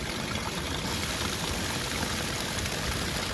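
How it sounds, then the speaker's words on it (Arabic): Sea water rushes and washes in a loud, continuous broadband hiss, close and unbroken with no voices. "الماء البحر"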